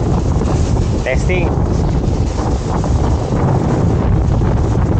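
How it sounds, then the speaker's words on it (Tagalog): Heavy wind roars against the microphone in a continuous rumble on a beach with strong waves in Lian, Batangas, with a brief spoken word and a faint high bird-like chirp early on. "Lakas ng hangin."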